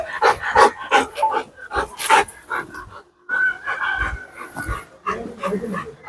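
A dog barks several times in short bursts fairly close by, mixed with yips and whimpering, while people talk in Malayalam at intervals.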